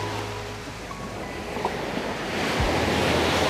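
Sea waves wash steadily onto the shore at a beach in Khao Lak, Thailand, a continuous surf roar that swells slightly toward the end, with some wind noise.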